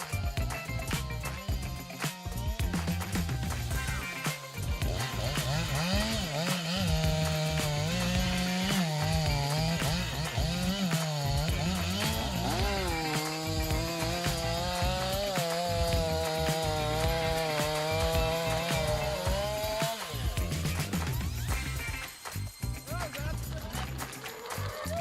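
A giant 500-horsepower wood-cutting machine with a chainsaw fells a huge tree whose trunk is 1.3 meters across, its loud, steady engine and saw whine rising and falling in pitch for about twenty seconds before dropping away.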